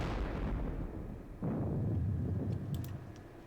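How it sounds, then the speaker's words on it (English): Artillery fire in a Battle of Bautzen wargame video game: deep booming blasts, one at the start and another about halfway, each trailing off into a rumbling crackle, with faint clicks near the end. "So let's start the artillery."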